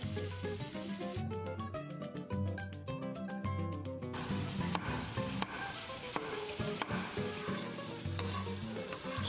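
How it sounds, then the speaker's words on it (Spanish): Chopped onion frying in a pan, a continuous sizzle with occasional stirring scrapes, heard faintly under background music. "Sofreír la cebolla hasta que esté transparente."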